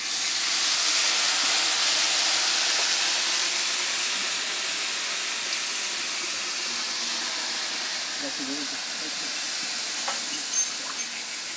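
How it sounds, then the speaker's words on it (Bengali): A loud, steady sizzling hiss of water hitting a hot frying pan after frying, holding a continuous level throughout. "ভাজা হয়ে গেছে, এখন জল দিয়ে দিচ্ছি।"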